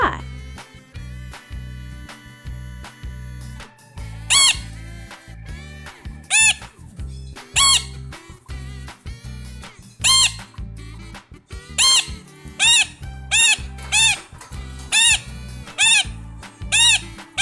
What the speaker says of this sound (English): That's a macaw, a parrot that can talk.